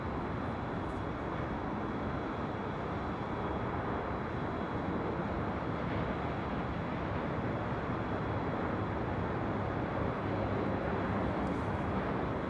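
Delta Air Lines Airbus A350-900 jet at LAX, flight bound for Detroit, heard as a steady, broad engine roar that holds evenly at moderate level throughout, with no talk over it.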